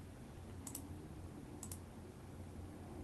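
A computer mouse clicked a few times at a desk, faint sharp clicks spaced about a second apart over a low steady room hum.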